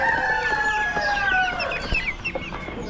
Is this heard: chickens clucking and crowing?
yes